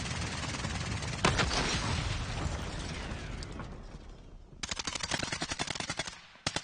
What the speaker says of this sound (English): More shots going on.